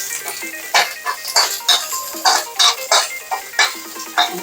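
A spatula clatters rhythmically against a pan as chilies and garlic are stir-fried for a spicy Thai chicken chili stir-fry, giving bright, close, evenly spaced metallic scrapes and clinks; no one speaks.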